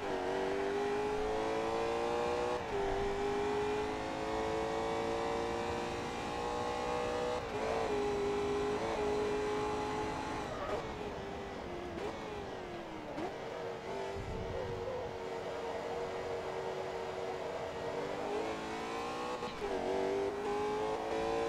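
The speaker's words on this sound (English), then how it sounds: "I'm really enjoying driving this car." A sports car in Forza Motorsport 2 drives hard with a loud, continuous engine drone, its pitch climbing and dropping sharply through gear shifts and throttle lifts, up close and without talk.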